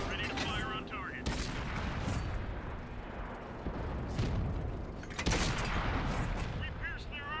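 Tank cannon fire and battle noise in World of Tanks: repeated sharp blasts at about 1 s and 5.3 s rise out of a steady rumble of combat, with voice lines from the game crew heard throughout.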